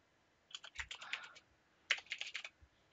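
Typing a WinDump command on a computer keyboard: two quick runs of close, crisp key clicks separated by a short pause, quiet and clear with no talking.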